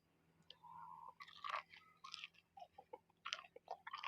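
Close, quiet chewing of crispy salt-fried pork belly, made from three-layer pork, with repeated crunchy bites and mouth sounds in an irregular rhythm and no talking.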